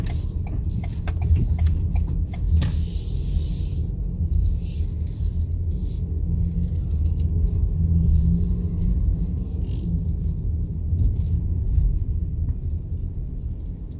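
A 2020 Lincoln Corsair's engine comes back to life after an auto start-stop shutdown, a steady low rumble of idle running nearby throughout, with a few faint ticks and no talking.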